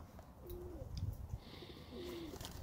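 White birds cooing, two faint, low coos spaced apart over soft background noise, with no talk.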